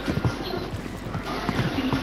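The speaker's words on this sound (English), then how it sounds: "Oh, well, I hear footsteps." Rapid clopping footsteps patter across a video game map in Rebirth, a busy, uneven rhythm of steps under a noisy mix, with voices chattering over them.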